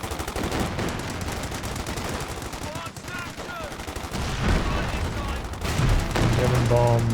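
Dense, continuous gunfire and explosions from the Company of Heroes 2 strategy game during an assault with gammon bombs, rapid machine-gun bursts and heavy blasts layered throughout, growing louder near the end.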